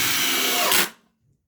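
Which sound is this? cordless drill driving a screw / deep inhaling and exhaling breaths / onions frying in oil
cordless drill driving a screw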